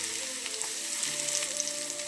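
Crushed garlic and dried red chilli dropped into hot oil crackle and sizzle steadily, a bright continuous fry heard up close.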